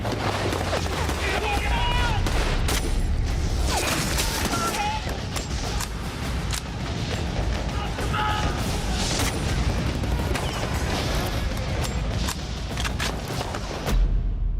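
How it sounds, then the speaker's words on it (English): Machine gun and rifle fire from a bunker position in a war setting, dense bursts and booms crowding together continuously, loud and close, with no clear speech over it. "His machine gun is the last one still firing from his group of bunkers."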